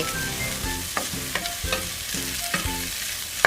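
Bitter melon stir-fried with egg sizzles steadily in a pan, with a rhythmic series of spatula scrapes and taps about every half second, close and without talk.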